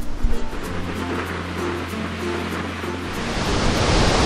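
Steady broadband roar of the Fallbach waterfall near the village of Malta, a dense continuous rush of falling water heard from close by, with a low hum underneath that fades partway through.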